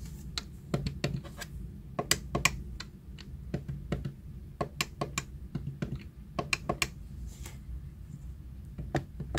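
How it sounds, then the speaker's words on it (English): Crisp plastic button clicks from Mega Drive 6-button controllers, a Japan-exclusive Nintendo Switch Online pad beside the original, pressed in quick irregular bursts and close to the mic. "Some ASMR for you, button clicks."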